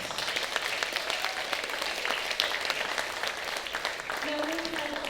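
An audience at a pageant applauds the finalists with steady, dense clapping throughout, and a voice is faintly heard under it.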